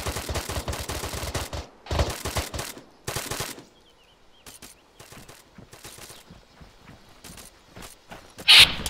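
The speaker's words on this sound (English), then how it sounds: "There's 50 fire coming from the northwest." Heavy .50 caliber machine-gun fire in a video game battle, long loud bursts early on, then sparse, fainter shots and scattered rattles at a distance.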